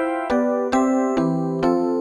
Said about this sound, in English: Electric piano 2 are more digital electric piano sounding, so things like FM pianos.